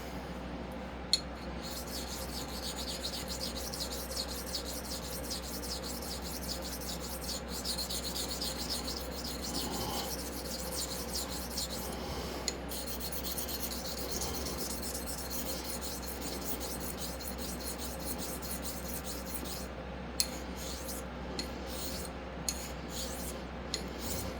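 A razor's edge bevel being honed on a 400 grit stone gives a continuous close rasping scrape with a steady rhythm of back-and-forth strokes, alone and without talk.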